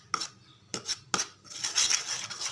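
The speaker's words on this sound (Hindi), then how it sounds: "इसको हम अच्छे से मिक्स करेंगे कि गुठलियों को हम ख़त्म करेंगे।" A utensil scraping and clinking against a bowl while milk is mixed into an ubtan face mask paste, breaking up the lumps, with three sharp taps followed by a busier stretch of stirring, close up and without speech.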